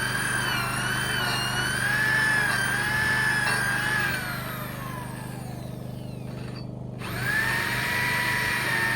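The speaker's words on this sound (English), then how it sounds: "That's an impressive drill bit." Power drill driving a large bit into timber beam, a loud continuous whine that rises and sags under load, dips briefly, then spins back up near the end, with no talk.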